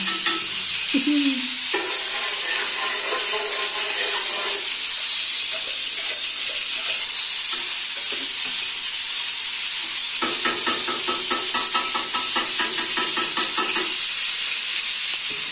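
Ghee sizzles loudly in a hot pan with a constant close hiss, broken by bursts of crackling spatter and a few scraping stirs, with no voices.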